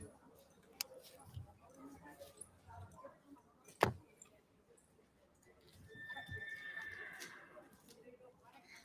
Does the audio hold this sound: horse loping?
yes